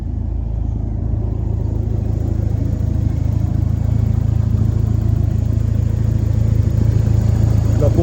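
Toyota Celica engine idling steadily after a water pump replacement, a continuous low mechanical hum with a constant rumble running evenly throughout at close range, with no talk.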